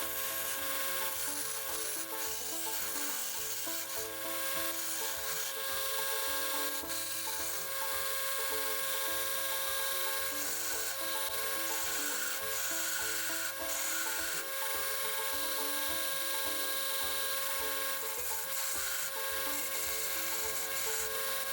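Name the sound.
belt grinder shaping knife with 40 grit belt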